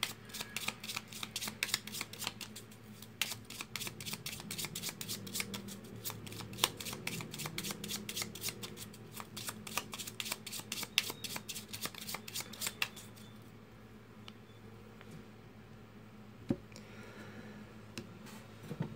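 A Cigano fortune-telling card deck is shuffled in a rapid, steady run of crisp riffling flicks for about thirteen seconds, close up, then a few softer card handling sounds with no talk.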